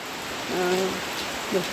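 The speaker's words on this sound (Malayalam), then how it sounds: "ഇന്നാണെങ്കിൽ കാർത്ത് ഇരുണ്ട് അങ്ങനെയൊക്കെ വന്നിട്ടാണ് ഇന്നത്തെ മഴ" Steady rain falls on a dark, overcast day, a soft and even hiss that runs through the whole stretch, with a couple of faint tonal sounds rising briefly above it.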